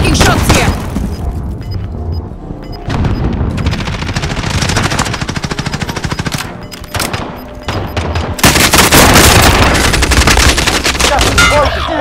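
Rapid machine-gun bursts and single gunshots with occasional booms fill a Call of Duty: Warzone match on Rebirth Island, loud and close with brief lulls, while a voice speaks over the shooting.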